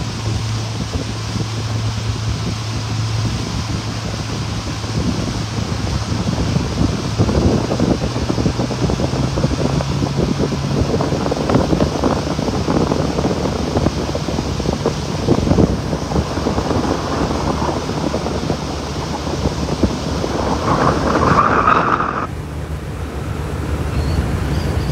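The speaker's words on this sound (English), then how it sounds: "Fighting the wind." Strong wind buffets the microphone on a storm-reshaped beach at Delnor-Wiggins Pass after Hurricane Ian, a loud continuous roar with gusting surges and surf blended underneath.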